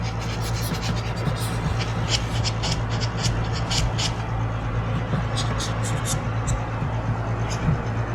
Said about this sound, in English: So let's just sand it as smooth as we can.